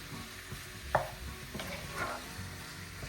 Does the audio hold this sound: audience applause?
no